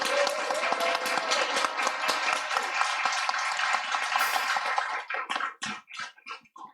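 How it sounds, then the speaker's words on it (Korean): A congregation joining an online prayer meeting applauds in a steady, dense wash of clapping that holds for several seconds, then thins into a few scattered claps before stopping. "박수로 감사의 마음 올려드리겠습니다"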